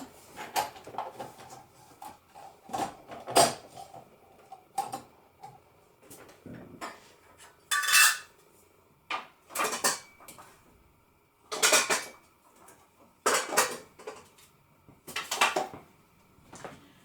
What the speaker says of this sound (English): Just going to fix the grater in.